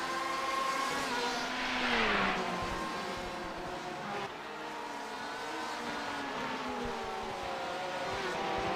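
The red and black number 2 LMP1 race car in a sim racing endurance event at the Nürburgring holds a steady, high engine whine, its pitch rising and dropping through gear changes as other cars' engines sound faintly behind it.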